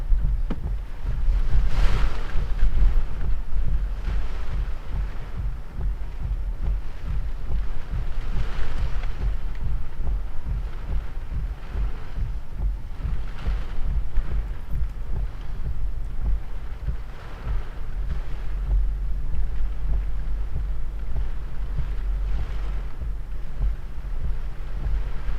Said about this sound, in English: That's getting pretty gusty.